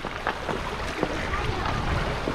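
Water swirls and splashes around the legs of hikers wading across a river, a continuous close churning with wind noise and brief voices mixed in.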